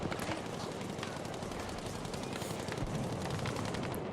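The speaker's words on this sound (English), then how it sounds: "our SDA just firing blindly at pretty much anything that moves" Rapid, continuous gunfire from a shooter video game match in competitive play, with dense overlapping shots crackling steadily at a fairly low level the whole time.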